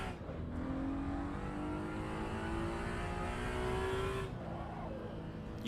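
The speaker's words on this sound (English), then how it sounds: "You can hear every time I touch the brakes, it's just screeching away." A racing car engine drones steadily while a long, rising tire screech from vintage tires under braking streaks across the middle, loud and continuous, in the video game Assetto Corsa EVO.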